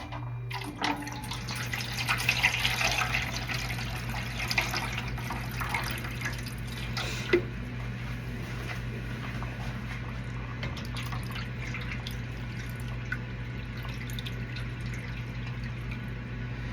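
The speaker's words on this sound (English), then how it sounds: "so I'm going to add the water." Water runs and splashes steadily into a double-boiler dye pan, a soft continuous trickling with a low hum beneath it and a few brighter drips.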